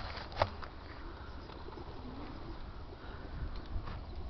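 Racing pigeons at a one loft race, birds heard as soft, faint cooing and scattered calls over a steady outdoor background, with one brief sharp knock early on.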